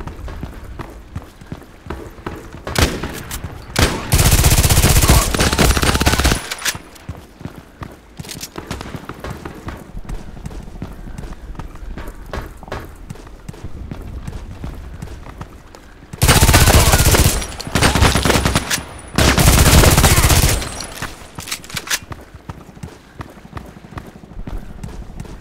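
Kedr submachine gun fire in the online shooter Contract Wars, with three loud sustained automatic bursts of a second or two each, one early and two close together later, over steady game background noise.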